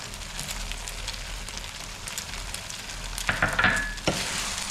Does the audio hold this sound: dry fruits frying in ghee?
yes